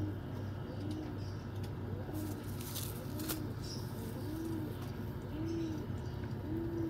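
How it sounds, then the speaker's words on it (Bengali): Pigeons kept at home coo in a soft, regular series of rounded calls, about one every second, fairly close and quiet over a low steady hum and occasional light clicks. "আর এই হলো পুরো পায়রাটা।"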